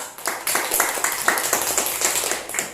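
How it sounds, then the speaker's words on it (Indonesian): A small group in a classroom-style gathering gives a round of applause, with loose, close-up hand claps arriving in quick uneven bursts for a few seconds. "kita beri tepuk tangannya"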